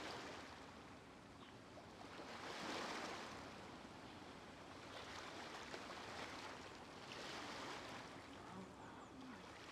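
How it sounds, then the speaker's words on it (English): Calm sea waves from the video game Genshin Impact make a steady, soft wash of surf that swells gently in slow surges, faint and continuous with no talk. "The waves are as calm as always."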